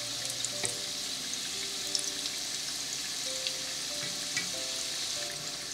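Layered neuris (gujiya), a pastry, deep-frying in hot oil, giving a steady, soft, dense sizzle with faint bubbling crackles throughout, close and alone with no talk.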